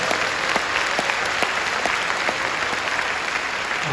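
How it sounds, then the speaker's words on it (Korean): A large church congregation at a revival gathering in a Busan convention hall applauds steadily, a dense sustained wash of many hands clapping that fills the whole stretch without any voice on top. "하나님께 한 번 더 큰 박수로 영광을 올려드릴까요?"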